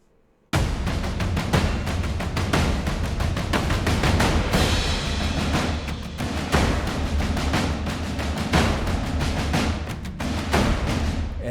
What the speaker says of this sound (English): so now our drums sound like this in this final section.